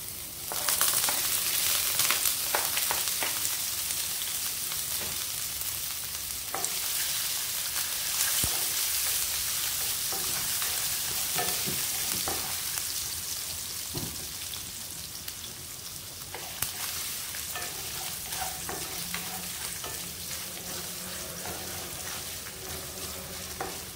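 Sausage, onion and ginger sizzle loudly in hot oil in a wok, a dense continuous crackle with occasional sharp pops and scraping stirs, no talking.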